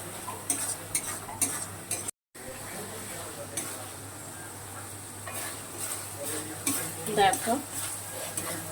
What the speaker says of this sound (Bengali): এই মশলাটাও আরেকটু কষানো হবে